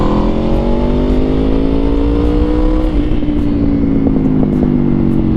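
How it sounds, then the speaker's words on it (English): A 2023 Aprilia RSV4 Factory time attack motorcycle with an Akrapovic exhaust revs loudly and close, its throaty engine note sliding gradually downward, then settling into a slightly rough, sustained drone. "And it sounds so good with that Akrapovic exhaust."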